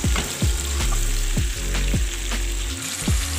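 Tomatoes frying with onions in a cooking pan, a constant close sizzle broken by repeated scraping stirs of a spoon, with no speech.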